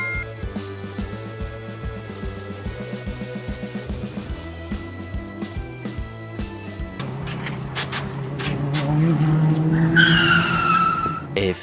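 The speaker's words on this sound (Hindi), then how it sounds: "सिया तूने मेरी कार को ओवरटेक क्यों किया?" Online car racing video game with cars skidding, engines droning steadily and tire squeals building toward the end, set over a looping game music bed.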